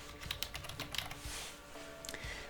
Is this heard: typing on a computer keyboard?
yes